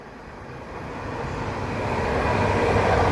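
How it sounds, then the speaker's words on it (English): A TransPennine Express Class 802 train pulls into Crossgates station with a broad, steady rumble that slowly grows louder as it nears. No voices are heard over it. "here is the TransPennine Express service to Newcastle"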